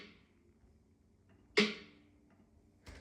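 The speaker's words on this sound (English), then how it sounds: "So here's the first snare." A single crisp snare hit rings out alone with a short decay, followed by a faint hit at the very end.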